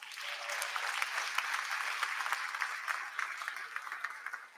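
An audience applauding at a university convocation, a dense, even wash of clapping from a large crowd heard at a distance, holding steady before thinning slightly at the end.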